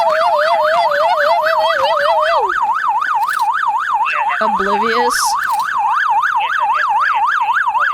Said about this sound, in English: How do you not fucking hear the fucking police siren going, bro?